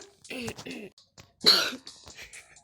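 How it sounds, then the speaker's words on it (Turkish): A few sharp coughs in a short burst, close up, with a throaty rasp and brief pauses between them. "Arkadaşlar neden öksürüyorum?"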